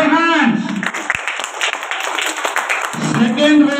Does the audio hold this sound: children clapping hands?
yes